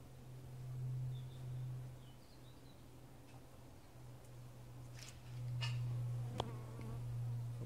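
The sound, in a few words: honeybees buzzing in an opened beehive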